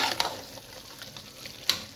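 Korma masala roasting with mutton in a pot gives a soft, steady sizzle with light stirring scrapes and two sharper clicks of a spoon against the pot.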